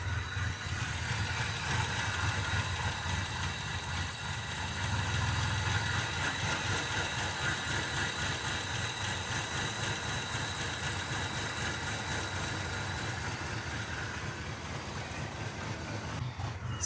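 A first-generation Mitsubishi Montero engine, running rich, idles just after starting with a steady low rumble and faint vibration, fairly quiet and continuous with no voices.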